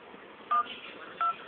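Two short, clear beeps from the dialer keypad of a Sony Xperia C phone, spaced under a second apart over faint background hiss, close and fairly quiet.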